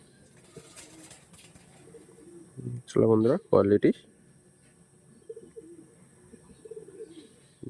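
Kalpora Kaldom line pigeons coo softly and continuously in the background while someone talks, with a louder burst of voice in the middle.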